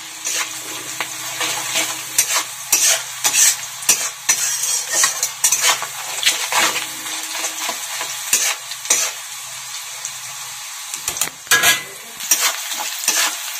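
A spoon scrapes and clinks against a pan as onions fry, the sizzle hissing continuously beneath irregular stirring strokes, with a few louder knocks toward the end and no talking.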